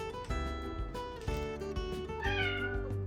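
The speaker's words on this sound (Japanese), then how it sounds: "その後も短い声で呼びかけるニャーゴ。" Short, repeated meows from Nyago, a resident house cat greeting a weak, injured former stray, sounding close and clear in a quick series of brief calls.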